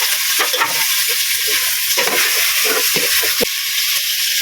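Onion, garlic and boiled chicken fry in a pan with a loud, dense, constant sizzle up close, broken by occasional clacks and scrapes of stirring.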